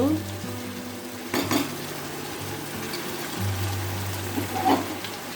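Meat sautés in oil in a pan, a low steady sizzle with occasional scraping stirs of a utensil against the pot, fairly quiet and close.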